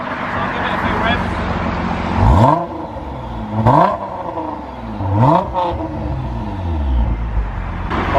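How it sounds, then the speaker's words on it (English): Nissan GT-R R35 with an Armytrix Valvetronic exhaust, valves closed, revved from behind the car: three sharp throttle blips rise and fall over a steady muted idle, loud and close. "So I'll give it a few revs."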